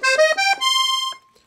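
Violin register on a red-gold Hohner Concerto III piano accordion, three treble reeds: a short run of bright, reedy sustained notes stepping up then holding one tone before releasing, close and clear with no talking.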